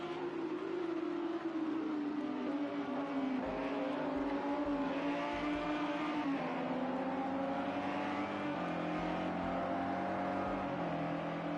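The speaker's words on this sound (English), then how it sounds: "You can hear Liam's BMW right behind Adam." A BMW race car engine in the Project CARS 2 racing game at Fuji Speedway drones loudly and steadily throughout, its pitch sliding up and down as the car accelerates and brakes, with a second engine tone layered close behind.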